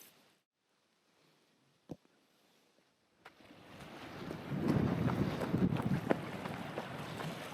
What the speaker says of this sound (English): windy. It's from the north too